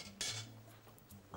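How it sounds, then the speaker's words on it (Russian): A metal spoon scrapes and clinks against a mortar holding mixed ingredients, a few short close strikes and grinding strokes with no talking. "Теперь мы берем ложку,"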